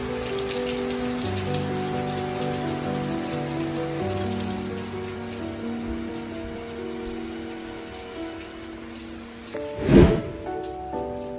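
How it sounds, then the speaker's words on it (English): Rain falling steadily on a roof, a constant soft patter over a quiet sustained tone, with a sharp louder clatter near the end. "So it's raining again."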